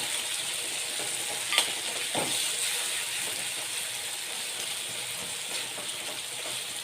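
Ridge gourd curry simmers on a village wood-fired stove in Kathiyawadi style with turmeric and garlic chutney added, a faint, soft frying hiss with occasional light stirring clicks and no speech.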